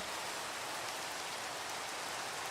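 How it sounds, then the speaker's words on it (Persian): Steady rain pours in Minecraft, a dense, even hiss of falling water holding at a constant level throughout with no other sounds. "بارون میباره چه بارونی ببینید"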